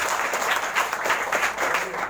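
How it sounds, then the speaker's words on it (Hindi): Children clap loudly at an AYUSH awareness campaign event, a continuous, dense burst of many small hands clapping with pulsing swells and no clear gaps. "ताली बजा रहा जोरदार"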